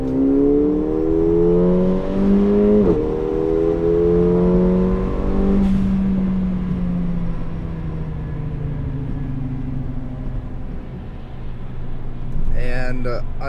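Mercedes CLA45 engine pulls hard while merging onto a freeway, a rising whine that climbs through the gears with brief shift dips, then settles into a lower steady drone as the car cruises. Speech is faint or absent.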